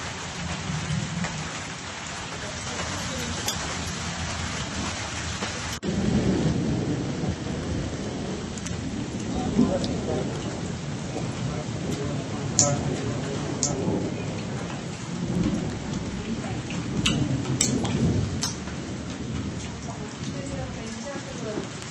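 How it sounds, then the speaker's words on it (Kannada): Heavy rain and a windy thunderstorm in Chikkamagaluru, with steady broadband downpour, gusts and low rumbles of thunder running throughout, swelling loudest around the middle. "ಚಿಕ್ಕಮಗಳೂರಿನಲ್ಲಿ ಗಾಳಿ ಮಳೆ ಅಬ್ಬರ ಜೋರಾಗಿದೆ"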